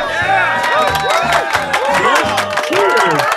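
A canned audience sound effect of cheering, whoops and clapping rises in lively waves, mixed with people talking close by.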